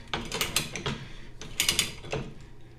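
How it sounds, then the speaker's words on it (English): Steel gas pipe is threaded by hand with a lubricated die, giving a close series of crinkling, ratcheting crunches in uneven bursts as the teeth cut. "you can hear like a little crinkling sound there. That's the steel being cut with the teeth"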